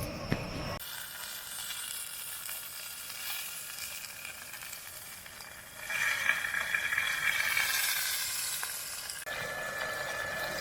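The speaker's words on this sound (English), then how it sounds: "I got a nice sear on the ribeye." A ribeye steak sears over a wood-burning Biolite stove outdoors, giving a steady broadband sizzle that swells louder and crackier midway, then settles back to a constant hiss.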